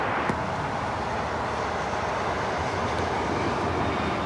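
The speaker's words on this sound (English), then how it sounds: "That was American Airlines 1675 taking off to Phoenix on the A321neo" An American Airlines A321neo taking off at LAX, heard as a steady, loud broadband jet roar holding at an even level for the whole stretch with no voices over it.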